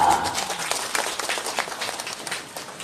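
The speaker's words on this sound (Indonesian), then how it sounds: "Mang Cepot tepuk tangan dong yang meriah." An audience at a humorous Sundanese religious talk with a puppet show claps in a burst of applause that starts loud and gradually thins and fades over a few seconds.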